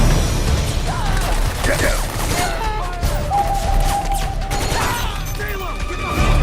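Gunfire in a Metal Gear Solid 4 battle, a steady rattle of shots and mechanical clatter under shouted soldier voices, loud and close throughout.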